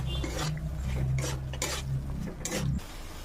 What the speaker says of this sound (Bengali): এর মধ্যে এবার আমি আলুগুলো দিয়ে দেবো, মটরগুলোও দিয়ে দেবো, দিয়ে আবার ভালো করে কষিয়ে নেব